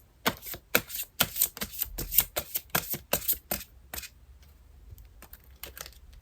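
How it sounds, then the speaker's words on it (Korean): Tarot cards being shuffled and drawn, a run of crisp, rapid riffling snaps and slaps close to the microphone that gradually slow and fade into softer, sparse card handling. "여러분을 위한 연애 조언 카드를 한번 뽑아보겠습니다."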